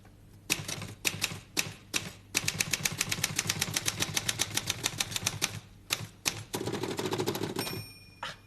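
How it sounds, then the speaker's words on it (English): Rapid mechanical keystrokes of a typewriter in bursts and a long fast run, with brief pauses and a carriage bell ringing near the end. "have a listen to the different sounds a typewriter makes."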